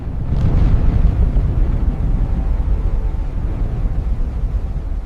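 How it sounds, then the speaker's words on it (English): Deep, continuous rumbling roar of a volcanic eruption sound effect, loud and sustained throughout with a low, churning texture. "Eruptions spree across the land."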